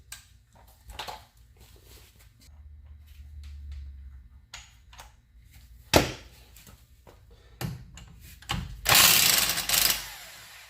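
Ratchet working loose the center CV joint bolt on a 2004 Mini Cooper S R53 during front hub replacement, a few clicking and clunking bursts of tool and metal contact at close range, with no talking.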